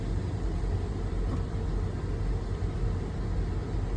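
A used GMC Yukon truck engine idling: a steady, even low rumble with a constant hiss, close and unchanging throughout.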